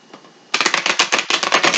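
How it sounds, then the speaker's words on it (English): A stiff Cosmic Tarot deck is riffled in quick, close bursts, crisp rapid card flutters in two runs after a quiet start. "I'm going to use the Cosmic Tarot over, just because I like shuffling this deck so much more than the Universal Tarot"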